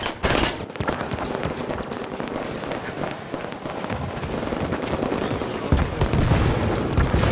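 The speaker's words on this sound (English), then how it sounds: "Enemy fire!" Dense gunfire and explosions from the video game Halo 5 Warzone rattle on continuously in rapid volleys, loud and close, with heavier blasts near the end.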